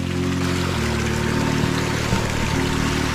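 Warm water from a volcanic hot spring in a rainforest flows and trickles steadily nearby, a continuous close wash with a low hum running underneath throughout.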